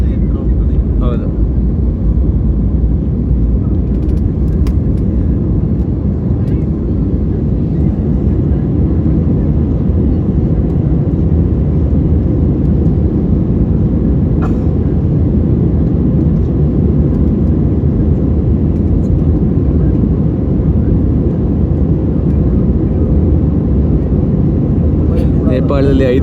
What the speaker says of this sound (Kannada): ಮತ್ತಷ್ಟು ಎತ್ತರಕ್ಕೆ ಹೋಗ್ತಾ ಇದೆ ಈಗ ವಿಮಾನ